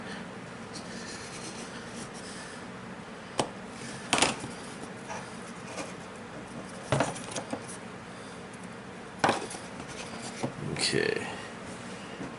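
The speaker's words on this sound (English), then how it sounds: "Now, I've scored them well enough to come apart at the creases." Scoring material along creases for a model plank house, heard as a few sharp scratching strokes at close range with a soft rubbing pause between them, set against quiet room tone while a voice speaks briefly.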